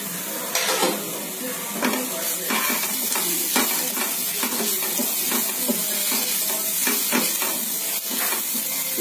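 Spiced egg curry masala with chilli and coriander powder being stirred in a frying pan, a steady loud sizzle with repeated scraping strokes of the spoon throughout.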